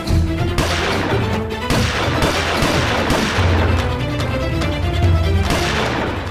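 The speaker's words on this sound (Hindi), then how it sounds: "पटाखे नहीं फोड़ रहे हैं प्रिय, गोलियां चला रहे हैं" Bursts of gunfire crackle over a rumbling, busy background in a comedy sketch, several sharp shots scattered across a few seconds with no pause in the noise.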